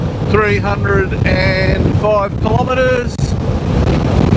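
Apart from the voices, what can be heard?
strong wind blowing on microphone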